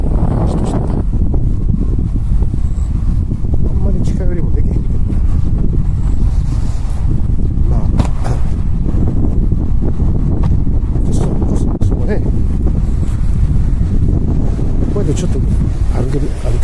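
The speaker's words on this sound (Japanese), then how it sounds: "多少風が今日吹いてるからまだマシだけどね" Strong wind gusting steadily across the microphone at a hillside sunflower park in summer, a loud continuous rumble throughout.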